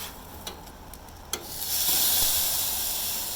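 A burger patty sizzles on a Char-Broil Edge electric grill, a steady broadband hiss that swells loud after a couple of soft clicks and scrapes from flipping, then holds close and continuous with no talk.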